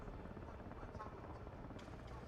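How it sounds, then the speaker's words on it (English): A video game helicopter going down throbs steadily through the whole stretch, a continuous low rotor drone with faint higher whines, under a busy background. "Helicopter's going down"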